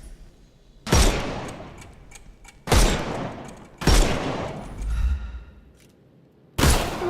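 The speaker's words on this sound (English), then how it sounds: "Shoot off their armour." Heavy gunfire in the Sherlock Holmes Chapter One video game, shooting the armour off enemies: four loud, sharp blasts spaced a second or two apart, each with a rough, ringing tail, and a softer thud between them.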